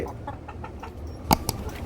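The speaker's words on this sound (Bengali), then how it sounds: "দেখেন কত বড় মুরগি অনেক সুন্দর অনেক বড় হয়েছে" Large Brahma chickens on a farm give soft, repeated clucks, with one sharper, louder cluck near the end, fairly close and without speech.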